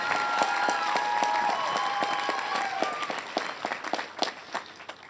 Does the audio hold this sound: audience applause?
yes